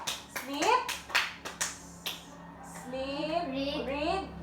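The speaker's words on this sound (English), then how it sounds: "Let us give Henrisa a very good clap" Children in a classroom clap in a quick rhythmic pattern for a classmate, about eight sharp claps close by, followed by a voice speaking.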